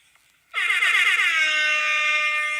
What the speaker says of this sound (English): Let me play my air horn again